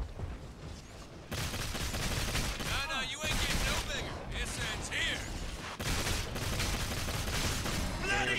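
Rapid bursts of gunfire from an inaccurate gun in the sci-fi shooter Evolve, continuous and loud amid game effects, with players talking over it.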